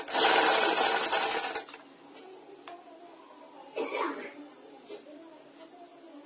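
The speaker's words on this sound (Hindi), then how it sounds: "एक पैर का मार्जिन लगाते हुए सिलाई लगाएंगे।" Sewing machine runs in a loud continuous burst stitching a fabric strip onto a sleeve, then stops; afterward only faint handling noises and a brief rustle remain.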